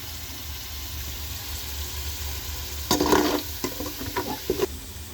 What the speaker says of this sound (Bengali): কড়া করে ভেজে নিতে হবে